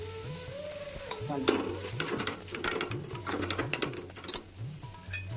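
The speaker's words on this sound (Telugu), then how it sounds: "ఇందులోనే మనం ఉడికించుకున్న జీడిపప్పు, శనగపప్పు కూడా వేయించుకుంటున్నాను." Boiled cashews and chana dal fry in a pan with turmeric and chili, giving a steady close sizzle with a rhythmic whirring and spoon scraping as they are stirred.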